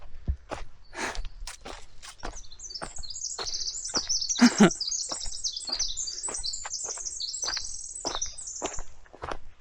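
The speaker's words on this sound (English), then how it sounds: "Little birds tweeting their little hearts out." Small birds chirp and tweet outdoors in a busy, continuous chorus of rapid high calls, fairly close and clear, with a few soft thuds like footsteps underneath and no talking.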